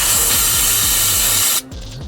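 A steady, close hiss of cleaner sprayed on a VW Polo 9N3 GTI gearbox drain hole lasts about a second and a half, then cuts off abruptly, leaving quieter background noise.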